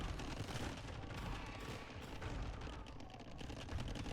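Cannon galleons in a video game match fire in a dense, continuous crackle of overlapping shots, heard faint and distant under a steady rumble.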